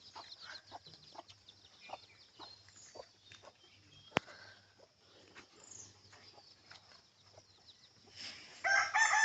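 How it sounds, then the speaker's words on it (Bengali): Village chickens and ducks in a rural setting cluck and call in scattered bursts, fairly faint and at a distance, with a louder sharp call near the middle and a busier flurry of calls at the end. "গ্রামীণ পরিবেশে হাঁস মুরগির কিচিরমিচির আওয়াজ"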